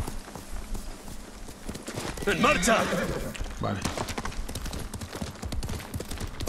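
Rhythmic clip-clop of horse hooves in the video game Ghost of Tsushima runs throughout, with a brief whinny-like burst in the middle and a person speaking briefly over it.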